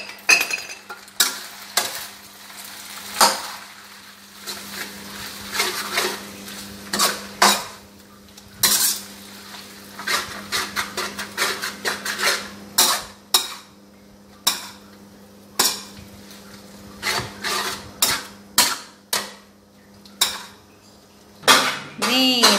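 Noodles stir-fried in a pan with dark soy sauce for Thai rad na: a spatula clanks and scrapes against the metal in repeated sharp strikes over a low, steady sizzle, with no talking.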